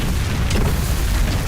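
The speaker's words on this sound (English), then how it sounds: "the explosions are a little bit louder" Explosions in the video game Heretical give a dense, loud, rumbling boom that fills a short burst without pause, with no voices present.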